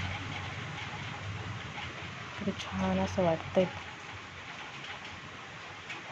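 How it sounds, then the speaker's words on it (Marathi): Soft, steady patter of light rain fills the background while a person speaks briefly midway. "पाऊस चालू आहे थोडा थोडा"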